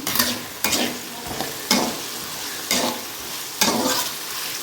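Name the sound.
onions and green chillies frying in a pan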